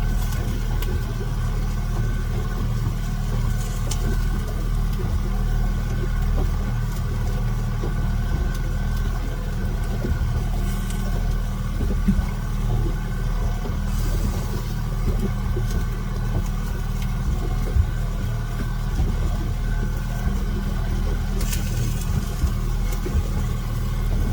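A fishing boat's engine gives a steady low drone, humming continuously at a moderate level, unchanging throughout with no voices.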